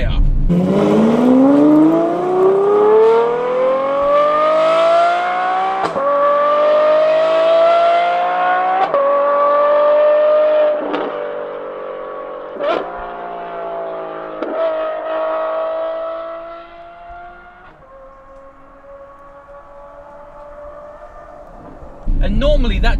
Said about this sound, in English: that V12 howl that, you know, people expect from a V12 engine